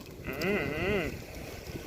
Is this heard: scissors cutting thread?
no